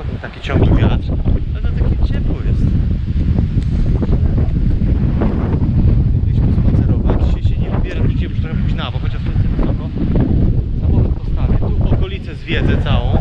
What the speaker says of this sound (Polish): czy im to nie przeszkadza, ten taki ciągły wiatr